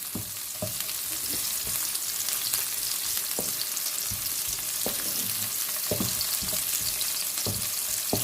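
Chicken and chopped vegetables stir-frying in a pan, a steady loud sizzle running throughout with repeated short clacks of a spatula or spoon against the pan, no voices.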